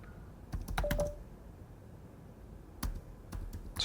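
Keys are typed quietly on a computer keyboard during Linux terminal work, with two short clusters of close clicks separated by a quiet gap, then a few more scattered taps.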